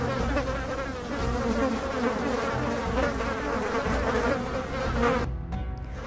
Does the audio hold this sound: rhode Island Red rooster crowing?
no